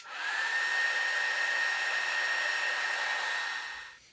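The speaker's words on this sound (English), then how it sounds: "I'm gonna dry some of them with the heat gun" A heat gun blows steadily at close range while drying handmade paper charms cut from food boxes. It gives a continuous loud whooshing hiss with a faint whine and runs unbroken for about four seconds before cutting off.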